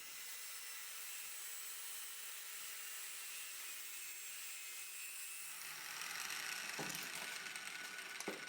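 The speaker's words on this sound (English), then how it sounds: "cut the stainless steel off so that it'll fit properly in the frame" Stainless steel window trim being cut to fit a frame on a chop-top shoebox Ford, a steady rasping, grinding hiss that continues throughout, growing slightly louder near the end with a few sharp clicks.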